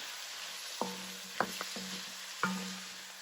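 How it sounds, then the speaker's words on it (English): Garlic and cardamom powder roast in a pan with a soft, steady sizzle, broken by a few sharp stirring scrapes and taps against the pan. "I'm just going to add them all in here. Let them roast"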